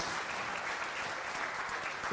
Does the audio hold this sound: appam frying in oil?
no